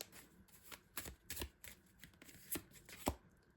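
Tarot cards are shuffled and drawn by hand, giving a run of soft papery riffles and sharper flicks and snaps spread irregularly across the clip. The sound is close and quiet, with no voices.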